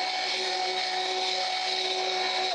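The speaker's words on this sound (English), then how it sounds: "stick blender it is" A stick blender whirs continuously through cold process peppermint goat milk soap batter, a loud, steady motor drone that cuts off abruptly at the end.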